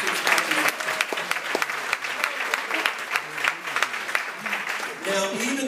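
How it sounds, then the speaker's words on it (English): Audience applause at a holiday evening event honoring a young competitor, strong sustained clapping from a crowd with voices and cheers mixed in, fading briefly before a voice begins speaking. "Let's give Chris a hand clap."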